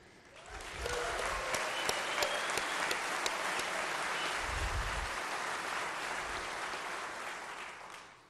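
Audience applause at Governor Stitt's first State of the State address: dense, steady clapping from a large crowd swells within the first second, holds evenly and tapers off near the end.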